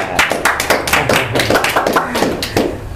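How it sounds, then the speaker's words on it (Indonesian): Audience clapping for a Bandung band at a show, a brisk run of sharp, close hand claps from a small crowd, steady and uneven for the whole stretch. "Tepuk tangan untuk mereka."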